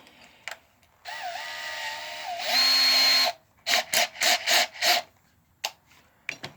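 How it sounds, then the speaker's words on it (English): A Porter Cable power drill, brushless or brushed, bores a 1/4 inch hole: one sustained whining run, then a louder burst, followed by several short pulsing bursts and brief taps, close up with no talking. "We'll drill 1/4 inch."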